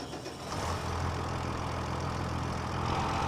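An old Allis-Chalmers tractor engine comes in after a brief pause and settles into a steady, close, low idle rumble that holds evenly to the end.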